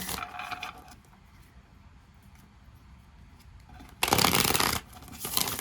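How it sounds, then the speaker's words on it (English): A deck of tarot cards is shuffled in two crisp riffling bursts, the second louder and longer, with quiet handling noises in between and no talk. "A little sticky on the shuffle there."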